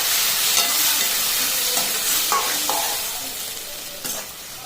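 Snake gourd frying and stirred in a pan: a steady close sizzle with a few scraping spoon strokes, gradually quieting.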